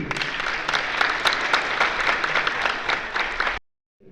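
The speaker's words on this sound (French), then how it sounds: "Je vous demande de l'applaudir." An audience at a gathering honouring a former FLN football team player applauds steadily, a dense, even wash of clapping that cuts off abruptly near the end.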